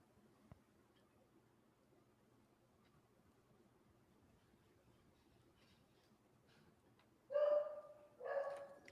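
A dog lets out two close, fairly loud barks near the end after a long stretch of quiet room noise.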